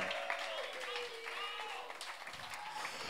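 Audience applause at a late-night show staged live at the Wacken Open Air 2018 festival, a fairly faint crowd clapping with whistles and cheering voices over it.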